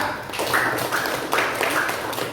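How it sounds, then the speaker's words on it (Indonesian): A classroom group claps for a student team, a dense burst of close applause that keeps going throughout with uneven swells. "Oke, tepuk tangan buat kelompok 3"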